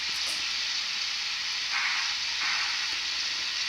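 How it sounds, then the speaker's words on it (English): Westinghouse air brake pump on a J15 steam locomotive in a train simulator game, running as a continuous loud steam hiss with a slightly stronger surge partway through, no voices. "the Westinghouse pump can be turned on by F16"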